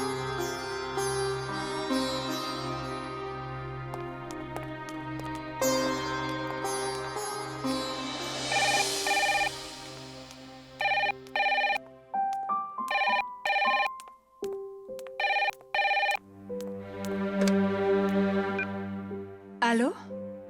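A telephone rings in a domestic drama scene, its repeated tonal bursts sounding over music and dialogue, with the rings clustering mid-clip and near the end.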